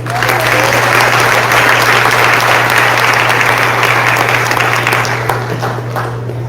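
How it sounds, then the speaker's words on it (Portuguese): A church congregation applauds in a loud, steady wave of clapping that holds for several seconds, with a low constant hum beneath it, then eases slightly toward the end. "Aplauda o Senhor."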